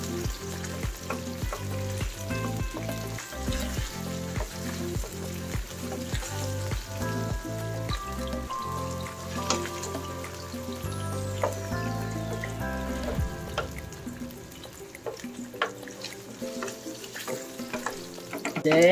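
Shrimp frying in a pan for lemon seafood pasta, a steady crackling sizzle running throughout beneath prominent tonal background music.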